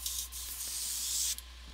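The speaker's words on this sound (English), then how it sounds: "I'm just going to run a little bit of, again, rubbing alcohol through that" An airbrush spraying rubbing alcohol through its nozzle, a soft continuous hiss broken by brief pauses, quiet and close.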